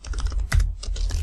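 Game code being typed on a computer keyboard: a rapid, close run of crisp key clicks with a slightly heavier keystroke partway through, steady and alone without talk.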